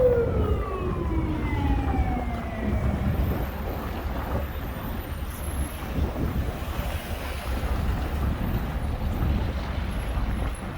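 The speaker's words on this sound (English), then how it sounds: "An ambulance!" Ambulance siren wailing along a St. Petersburg street at night, its falling tones sweeping past under heavy wind and traffic rumble, loud and fairly close before blending into the street noise.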